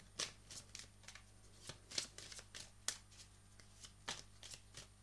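Oracle cards being shuffled by hand in a quiet room, a steady run of soft papery riffles and flicks with sharper snaps now and then, close and fairly quiet, no voices.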